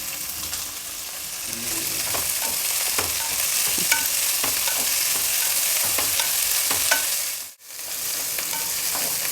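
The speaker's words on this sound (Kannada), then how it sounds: "ಎಲ್ಲ ತರಕಾರಿಗಳು ಸ್ವಲ್ಪ ಹುರಿದಿದ್ದಾಗಿದೆ ಎಣ್ಣೆನಲ್ಲಿ ಚೆನ್ನಾಗಿ ಫ್ರೈ ಮಾಡಿದ್ದೀನಿ" Chopped vegetables and frozen peas fry in hot oil with a steady broadband sizzle, punctuated by soft clicks and scrapes of stirring, before a brief near-silent gap and the sizzle resuming.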